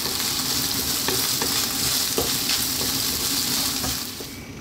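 Eggs fry in an oiled pan with a loud, dense, continuous sizzle up close, easing slightly toward the end, with no voices.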